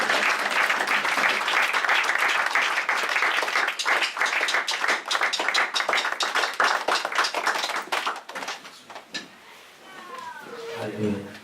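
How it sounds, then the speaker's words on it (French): Church congregation clapping loudly and steadily in worship, a dense roar of applause filling the room before it thins out near the end as voices come in. "Acclamons très très fort le Seigneur."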